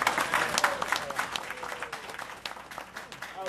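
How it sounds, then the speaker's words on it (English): Applause for a young man at a police jury meeting, a dense round of clapping from the room that stays fairly steady, with some voices underneath. "let's give him a big round of applause"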